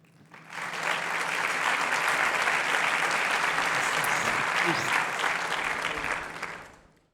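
Sustained audience applause at a conference on changing education, a dense crowd of clapping that swells quickly, holds steady at full strength for several seconds, then fades out.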